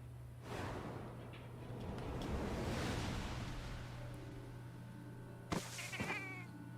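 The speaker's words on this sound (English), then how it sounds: "Oh no, not the cat." A cat in Final Fantasy XIV during a Monster Hunter crossover battle gives a drawn-out, wailing meow over rushing wind-like ambience, followed by a couple of short sharp game sound effects.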